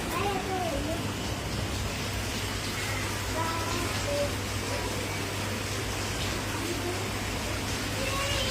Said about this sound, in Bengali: বাইরে কিন্তু ঝুম বৃষ্টি হইতেছে, বাট শিলা বৃষ্টি না,